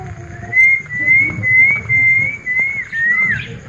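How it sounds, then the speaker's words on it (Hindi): A pet parrot calls with a long, clear whistled note that wavers slightly and rises at the end, heard close up over a low rumble of farmyard background noise. "और ये मेरा मिट्ठू तोता है मेरे व्यूअर्स"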